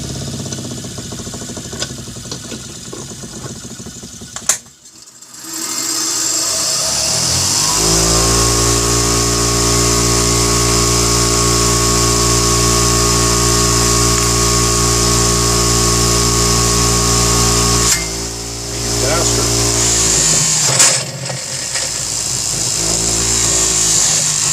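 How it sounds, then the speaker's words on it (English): Power tool fitted with a finishing wheel, run during a BigDog motorcycle oil cooler install: a loud, steady mid-pitched whir after a brief start, holding for long stretches with a short dip and restart near the end. "We're going to use the finish wheel."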